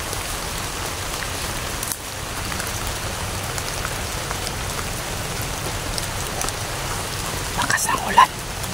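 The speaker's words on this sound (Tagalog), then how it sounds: "Lakas ng ulan." Heavy rain pours steadily outdoors at night, a dense, even hiss that stays loud and constant throughout with only a brief dip.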